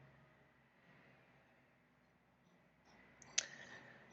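A computer mouse gives a single sharp, close click near the end of an otherwise very quiet stretch.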